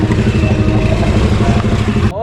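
A motorcycle engine runs steadily and loudly up close for about two seconds, a dense continuous drone that cuts off abruptly near the end.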